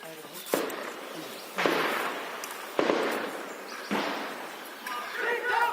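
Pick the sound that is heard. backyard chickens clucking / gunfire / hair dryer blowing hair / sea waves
gunfire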